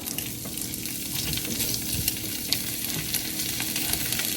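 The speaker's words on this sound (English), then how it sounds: "The first thing we're going to do is get our sausages sauteed off." Smoked sausages sizzle in a hot Hex-clad pan on the stovetop, a dense, steady crackle and spatter with occasional louder pops and no voices.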